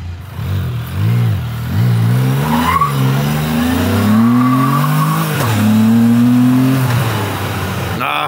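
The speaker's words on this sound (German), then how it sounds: "Kurz einen kleinen Drift gezogen." A Can-Am Spyder three-wheeler drifts with a loud, sustained tire squeal whose pitch rises and falls, backed by engine noise, close and continuous for several seconds.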